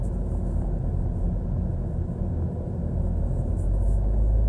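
A manual car's engine labors near stalling as the clutch is let out from about 2,500 rpm, a heavy uneven low rumble heard from inside that swells toward the end, with no talk.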